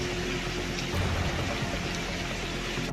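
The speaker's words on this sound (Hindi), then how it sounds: "शहर में मूसलाधार बारिश की वजह से सड़क पर पानी का तीव्र प्रवाह हो रहा है" Dense, hissing rush of floodwater pouring along a city street during torrential rain, a steady, loud, unbroken wash with no voices.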